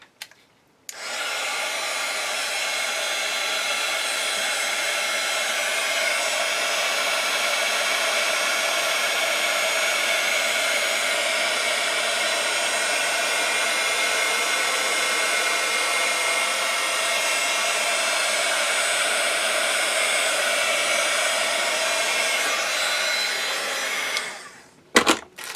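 A hair dryer blows steadily to dry paint on a junk journal page, a loud continuous whoosh that holds for about 24 seconds before cutting off, with no voices over it.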